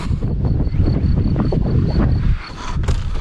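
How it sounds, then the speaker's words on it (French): Steady blustery wind buffets the microphone outdoors at a barn under renovation, a loud continuous low rumble with gusts, and a faint tonal whine running through it. "Comment ça, il y a du vent?"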